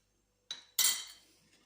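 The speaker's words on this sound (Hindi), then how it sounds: "ज़ीरा डाल के फिर हम चम्मच की मदद से इसको मिक्स कर लेंगे" A metal spoon clinks against a bowl while cumin is stirred into Chinese raita, giving two quick close scrapes and taps, the second louder and ringing briefly.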